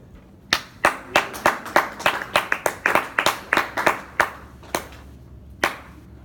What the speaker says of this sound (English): Slip clap, is that what you're doing?